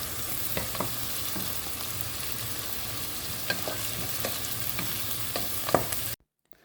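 Chopped spring onion whites sizzle in a hot pan for restaurant-style chilli chicken, a steady frying hiss with scattered stirring clicks and scrapes, ending abruptly in silence.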